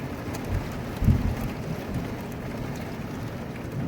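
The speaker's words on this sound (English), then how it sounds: "The wind's blowing." Wind blowing during a thunderstorm, a steady low rush of gusts buffeting the microphone with a brief stronger thump partway through, heard alone without voices.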